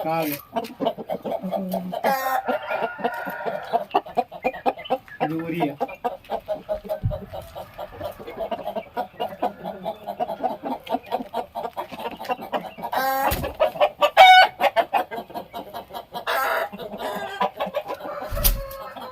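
Native village chickens cluck and chatter close by in a continuous busy stream, with a few louder squawks and some people talking in the background.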